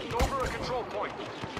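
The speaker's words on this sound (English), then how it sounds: "Blaster cannon." Blaster cannon fire in a Star Wars Battlefront match sounds as a few sharp energy-weapon blasts with quick pitch sweeps and rumbling booms, spread over a short, busy stretch.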